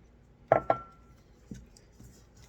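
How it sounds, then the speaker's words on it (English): A utensil knocks against a bowl while buttermilk is mixed into dry ingredients for biscuit dough, giving two sharp, close clinks and then a few softer taps, with no talking. "mix it in until the dry ingredients are moistened"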